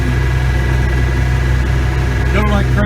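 Massey Ferguson 1105 farm tractor with 4,814 hours, engine running at a steady idle with a loud, even low drone and a faint voice near the end.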